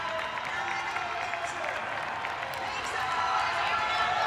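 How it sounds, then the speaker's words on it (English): Home crowd cheering for Canada during a women's team pursuit race on a speed-skating oval, a steady, distant roar of applause and cheering that holds throughout with no break. "The home fans cheering on the Canadian side."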